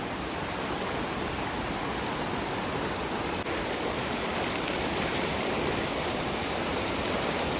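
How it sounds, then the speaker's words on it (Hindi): Fast-flowing, monsoon-swollen Ganges at the Bhimgoda barrage in Haridwar, a steady, loud broadband roar of rushing water that fills the whole stretch without pause or voices. "बहाव तो बहुत तेज है।"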